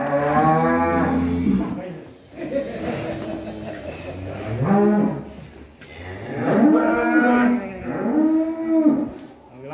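A giant cow on a farm gives loud, drawn-out moos in repeated bursts, close by, with people's voices around it.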